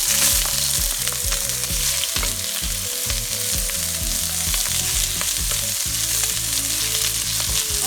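Onion, garlic and ginger fry loudly in a pan, a dense continuous sizzle and crackle close up, with a low rhythmic hum running beneath it.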